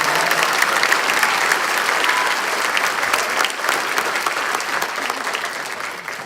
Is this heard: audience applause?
yes